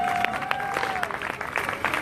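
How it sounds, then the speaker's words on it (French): Audience applause for a DJ at a French music event, a brief patter of scattered hands clapping heard at moderate distance alongside a faint tonal hum. "Applaudissez-la"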